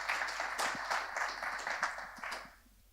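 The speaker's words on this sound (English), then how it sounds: "So please give them a round of applause." Audience at a self-storage industry panel applauds the panelists, a steady moderate round of clapping that carries on for a few seconds and then tapers off.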